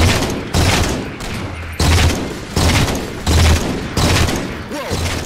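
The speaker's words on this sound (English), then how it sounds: "Mounted turrets!" In Halo 4 Spartan Ops, a mounted turret fires in repeated heavy bursts. About six booming volleys arrive at a fairly regular rhythm, loud and close.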